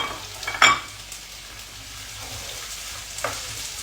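Onion dropped into a pan of hot olive oil, a sharp sizzling burst near the start that settles into a steady low frying hiss, with a second brief flare of crackle toward the end.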